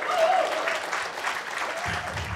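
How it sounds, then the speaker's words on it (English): Brief burst of audience applause at an indoor School of Data lunch event, steady dense clapping from a room full of people over a couple of seconds. "give her a round of applause"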